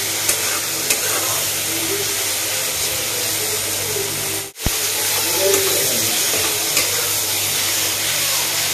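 Paneer cubes fry with spices in a pan as a loud, continuous sizzle and hiss, with stirring scrapes and one brief break midway.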